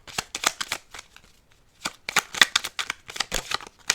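An oracle card deck being shuffled by hand, a run of crisp riffling bursts at close range with a short pause in the middle before the shuffling resumes.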